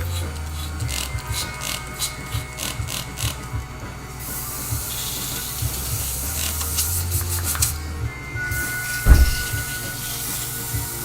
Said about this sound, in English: I'm going to clean off this airbrush real quick.